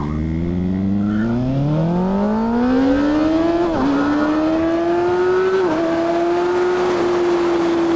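Kawasaki Ninja ZX-6R sport bike with an Austin Racing exhaust accelerating hard along a highway, its loud engine whine climbing steadily in pitch, with two quick gear-shift dips before holding a high, sustained scream.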